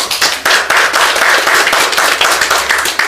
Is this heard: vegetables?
no